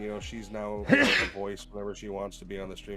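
One sharp, close sneeze bursts out early on, cutting through people talking casually during a live drawing stream.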